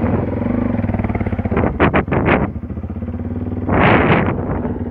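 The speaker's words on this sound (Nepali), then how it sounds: "बाइक जाँदै" A motorcycle runs on a rough walking path, its steady close engine drone rising in several short revving bursts as it passes, with no talk.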